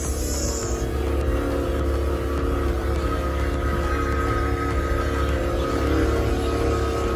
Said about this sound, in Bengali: আমাদেরকে নিয়ে যাচ্ছে ওর প্রাইভেট বোট